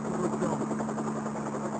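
A helicopter's steady, throbbing rotor and engine roar during a short flight from Nice to Monaco, loud and continuous throughout, with no voices.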